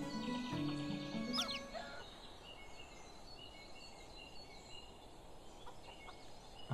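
Chickens in the medieval survival game Medieval Dynasty let out a few close, harmonic clucking calls at the start, which then give way to faint ambient game noise.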